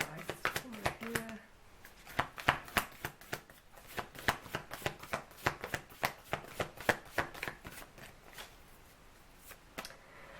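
A deck of tarot cards is shuffled close up, a long steady series of crisp riffling slaps and flicks repeating in quick rhythm, with a voice speaking softly at the start.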